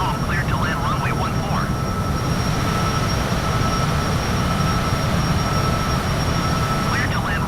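An Airbus airliner lands in Microsoft Flight Simulator with a loud, steady roar of jet engine and rushing air throughout, a thin high whine above it, and faint chirping cockpit tones near the start and end.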